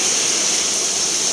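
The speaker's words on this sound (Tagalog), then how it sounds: "Lakas ng ulan." Heavy rain pours outside a house, a dense, loud, unbroken hiss of water falling that fills the short stretch with no voices.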